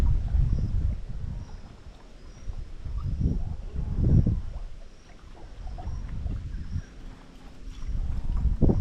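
Wind gusts through a mangrove fringe, rumbling low against the microphone in swelling waves that rise and fade, with faint water movement underneath and no voices.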